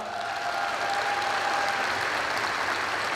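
Audience applause for honored officers at a State Police anniversary celebration in a large arena, a steady, moderately distant wash of clapping, with a thin sustained tone running underneath for the first half.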